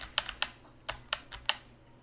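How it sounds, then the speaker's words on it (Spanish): The right arrow key on a computer keyboard is tapped repeatedly, sharp close clicks in an uneven rhythm, about six presses in two seconds. "solo oprimiendo las teclas de nuestro teclado, vamos a oprimir la flechita hacia la derecha varias veces"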